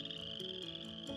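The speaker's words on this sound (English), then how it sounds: "There were frogs," Frogs croak in a quick, continuous chorus over a soft musical backdrop, the calls close and steady throughout the short stretch.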